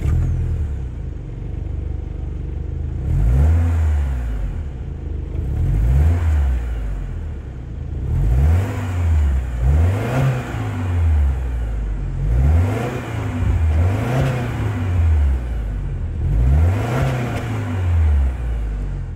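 A 2024 Subaru Ascent Touring with a 2.4-liter turbocharged boxer four-cylinder and dual exhaust tips, revved repeatedly while stationary, each burst of throttle rising and falling in a rhythmic series of about seven loud, close swells over a steady idle.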